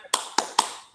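A teacher claps out the rhythmic 'tepuk semangat' pattern during a classroom teaching demonstration, three sharp, close, dry claps spaced evenly in quick succession, with silence between them.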